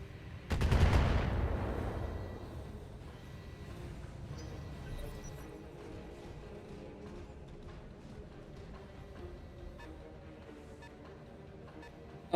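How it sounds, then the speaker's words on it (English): A heavy missile barrage in the mech combat game BattleTech, with a loud burst of impacts and blasts at the start fading into a rumbling, crackling tail of distant explosions and battle noise. "That was a lot of missiles."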